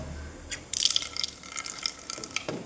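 Water gushes and splashes from a tap in a lodging room at Dwaraka Tirumala in short bursts, starting after a brief quiet moment, close and fairly loud.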